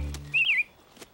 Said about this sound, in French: Je ne sais pas combien de temps les policiers vont continuer avec leurs sifflets.